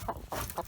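A young hen in a nesting box gives three short, close clucks in quick succession, each a brief throaty burst over faint background noise.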